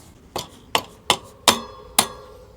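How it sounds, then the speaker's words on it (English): Five sharp metallic hammer blows on a motorcycle brake, struck close by in an uneven rhythm with brief ringing after each hit, alone in a quiet room. "I'm gonna need a hammer."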